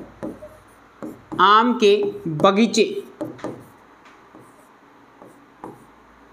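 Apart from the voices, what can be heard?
writing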